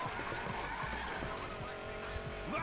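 Car drifting in Need for Speed Payback, with a sustained engine roar and tires screeching and skidding continuously at close range.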